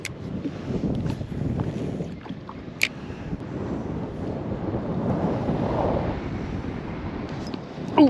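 Steady, blustery wind roars over open water around a small fishing boat on a winter outing, a continuous low rumble with occasional small knocks and no talking.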